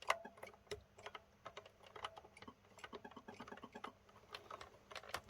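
Keys pressed on a ZX Spectrum 48k keyboard, rapid irregular clicky taps in quick clusters, faint and close, with no talk.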